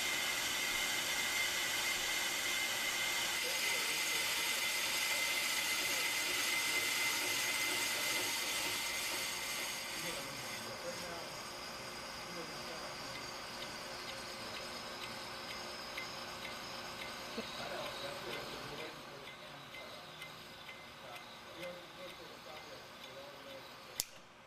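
A Pro Cut PFM 9.2 on-car brake lathe cuts a rotor with a steady, fairly loud mechanical whir and fine hiss, easing slightly after ten seconds, and a small click comes near the end.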